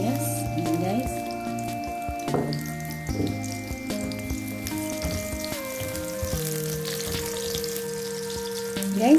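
Onion dropped into hot oil in a wok-style pan for ginisang ampalaya, giving a continuous close crackling sizzle with occasional clinks and shifts as it fries, no talk over it.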